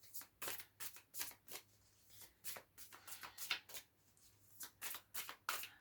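Tarot cards shuffled and drawn in quick repeated riffling bursts, crisp and close, separated by brief pauses in a quiet room.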